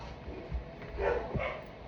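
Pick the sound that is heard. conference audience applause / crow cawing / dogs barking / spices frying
dogs barking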